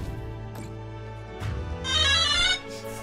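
A phone notification chime plays as a short melodic tone with a brighter rising flourish near the end, heard alone and fairly faint.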